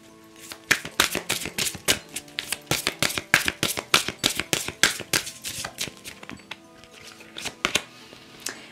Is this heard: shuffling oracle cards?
yes